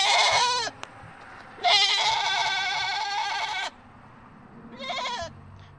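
Goats bleat in three separate calls: a short one, then a long, wavering bleat, then a brief final one, each loud and close with quiet gaps between them.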